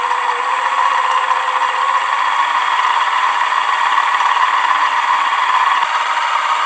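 Homemade centrifuge for casting molten aluminium spinning on its motor, a steady loud hum with a constant mechanical drone and light rattle, unbroken throughout with no talking.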